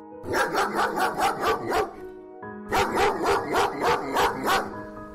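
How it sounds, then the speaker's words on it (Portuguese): A dog barking in two quick bursts, each a rhythmic run of about six or seven sharp barks, close and fairly loud, with a brief pause between bursts and no talking. "Spike saiu correndo e começou a latir"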